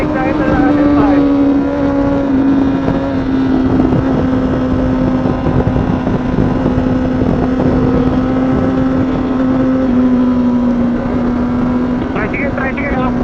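A Honda CBR 1000 RR sportbike rides downhill, its engine a steady loud drone with a sustained tone that shifts slightly in pitch, overlaid with constant wind rush, close to the rider throughout.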